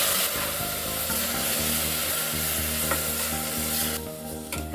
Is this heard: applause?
no